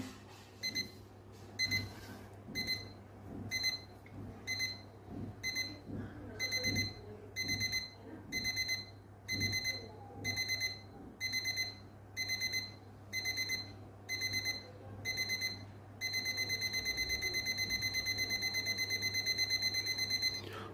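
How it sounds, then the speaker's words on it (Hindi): A digital table alarm clock sounds its alarm as repeated bursts of high electronic beeping. Early pulses are spaced and softer, then the bursts grow denser and louder until the beeping becomes a continuous tone near the end. "बारह बजकर एक मिनट हो चुके हैं और अलार्म साउंड करने लग गया है तो फर्स्ट में धीरे धीरे स्लो साउंड आएगा"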